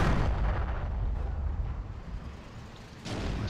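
Grenade explosions in the video game Forgotten Hope 2, set during the Fall of Tobruk, coming as a continuous heavy rumbling blast with a fresh boom near the end.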